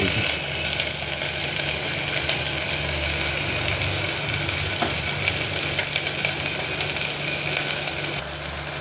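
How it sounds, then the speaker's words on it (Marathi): Onions frying in a pan until reddish for masoor dal, giving a loud, continuous sizzle with a low rumbling hum underneath and faint stirring, steady for the whole stretch without talk. "कांदा लाल येतपर्यंत असा येतो भागी घ्यायचा"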